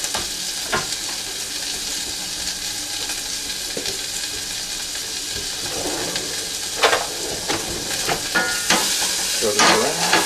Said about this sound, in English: we're going to put the aromatics